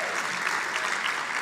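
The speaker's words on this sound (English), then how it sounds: "a big hand of applause" Audience applause at a conference, steady dense clapping filling the whole short stretch at moderate loudness.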